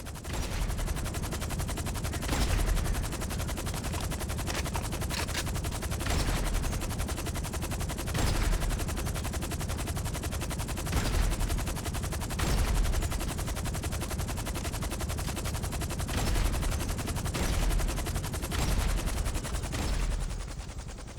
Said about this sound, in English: But then we tried the explosive sniper rounds.